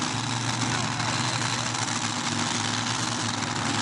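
A supercharged alcohol-fuelled rail car engine idles at the 2009 Off-Road Truck and Tractor Nationals mud race, a loud, steady, rough rumble that holds without letup for several seconds, with no talking.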